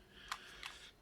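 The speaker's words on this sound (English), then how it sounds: "You can only wind film by hand" A disposable camera's film is wound by hand, producing two short, crisp ratcheting clicks about a third of a second apart, close and fairly quiet.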